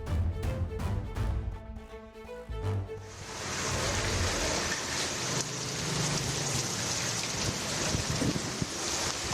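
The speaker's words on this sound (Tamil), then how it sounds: "கடலூரில் விடாமல் கனமழை பெய்து வருகிறது" Heavy, continuous rain pours down in Cuddalore, a dense, steady hiss that follows a short stretch of music.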